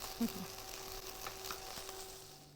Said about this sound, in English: All you want to do here is give it a gentle shake and stir it through. By shaking it, we burn off that top layer of alcohol